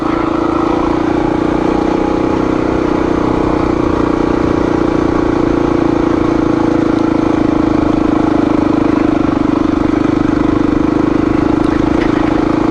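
A street-legal dirt bike rides a rocky dirt road in the Georgia woods, its engine droning at a steady loud pitch throughout, with constant rumble and no talking.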